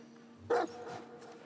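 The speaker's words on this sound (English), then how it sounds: "Bark." A single short dog bark rings out in the video game The Red Lantern, fairly close and clear over a low steady background hum.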